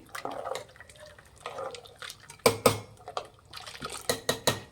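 Salted water being stirred inside a pressure cooker, with metallic clinks of a spoon against the pot and faint sloshing, ending in a run of sharper taps on the rim.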